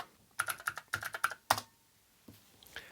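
Typing on a mechanical keyboard made for the Amiga 1200: a quick burst of crisp, loud key clacks up close, followed by a pause and a few scattered single presses.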